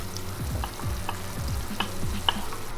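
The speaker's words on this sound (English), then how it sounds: "So here goes our pre-cooked barley." Pre-cooked barley tipped into a hot pan for risotto, sizzling steadily with a few soft scrapes and stirring knocks over about three seconds.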